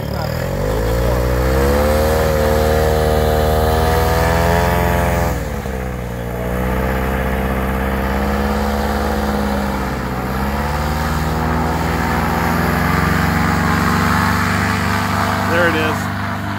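A paramotor engine runs at about quarter throttle: a loud, steady, buzzing drone that stays close, its pitch dipping briefly twice and then settling back to an even hum.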